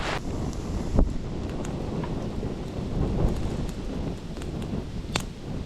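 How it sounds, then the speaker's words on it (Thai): Strong storm wind buffets the microphone in heavy, continuous gusts, with a few sharp knocks and rattles of loose material flapping nearby, all close and fairly loud with no voices. "ดูพายุแรงลมมันแรงมากเลย"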